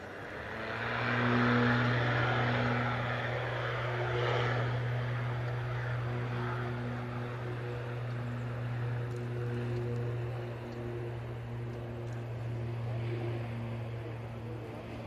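A Vulcan Air light aircraft at Manchester Airport drones steadily with a propeller engine hum and a faint broadband rush, holding at moderate distance throughout.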